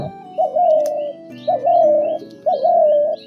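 A wild spotted dove coos three times in a steady rhythm, each soft, mellow call rising and then holding, close and clear with no other sounds.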